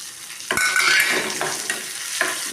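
Onions and green chilies fry in oil in a pan, with a steady sizzle broken by several scraping stirs of a spoon, close and fairly loud, with no talking.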